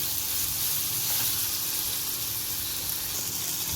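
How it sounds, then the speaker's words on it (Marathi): An onion fries in a pan for homemade pasta, a steady close hiss of sizzling oil running without a break and with no talk. "कांदा लाल होईपर्यंत मस्तपैकी भाजून घ्यायचा आहे"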